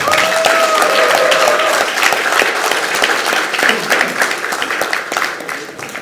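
A party crowd at a Liberty Korea Party field meeting in Gyeongnam applauds two election candidates. The clapping is loud and dense, close by, with a voice over it at first, and it thins out gradually toward the end.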